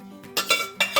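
A utensil scrapes the last of the cooking juices from a dish while making a Swiss chard and greens pot pie with bacon: two short, close scraping strokes with clinks over a quiet background hum.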